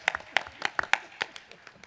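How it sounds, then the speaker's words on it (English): A short, thin round of handclaps at a US Coast Guard Auxiliary national event: a few people clap unevenly, each clap sharp and separate, fading out within two seconds. "There's another round of applause there."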